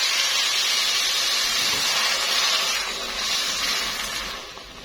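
A steady, loud sizzling hiss as water is poured into a hot pot of cooking chicken, fading slightly toward the end.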